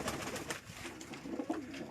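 Rampuri pigeons coo softly with low, repeated throaty calls over faint background noise, fairly quiet and without talk.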